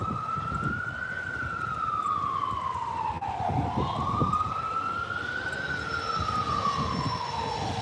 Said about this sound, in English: What's New York without the sirens